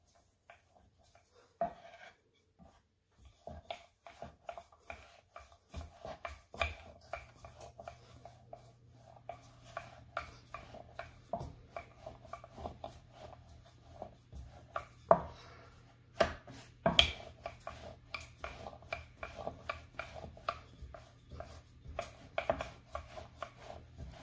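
A rolling pin works Jamaican beef patty dough on a floured rolling board, producing irregular soft knocks and taps that come close and quiet over a faint steady hum.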